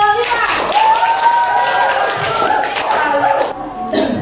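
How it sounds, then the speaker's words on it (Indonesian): A classroom group claps for a presenting team at a school teaching session, a loud burst of applause mixed with children's voices and chatter before it trails off near the end. "Tepuk tangan untuk kelompok 5."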